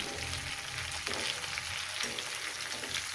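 Ridge gourd and potato frying in a pan, a soft continuous sizzle with light crackles and occasional stirring, close and fairly quiet, with no talk.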